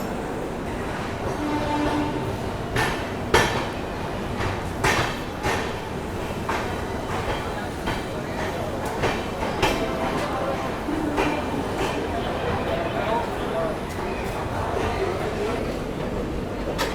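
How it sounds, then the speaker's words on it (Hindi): Onboard the CR Rajdhani Express leaving Jhansi, a steady rumble of the moving train carries rhythmic rattles and clanks of the carriage over the track, with people talking faintly in the background. "चलिए निकल गई अपनी सीआर राजधानी एक्सप्रेस वीरांगना लक्ष्मीबाई झांसी से"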